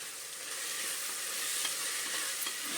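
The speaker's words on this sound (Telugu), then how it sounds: "మసాలా ఫ్లేవర్ అంతా కూడా పట్టుకునేటట్లు మీడియంలోనే ఉంచుకొని, స్టవ్ మీడియంలోనే పెట్టుకుని ఇలా వేయించుకోండి" Ginger garlic paste, mint and coriander sizzle in hot oil on a medium flame for veg biryani, a steady close frying hiss with faint stirring scrapes and no talking.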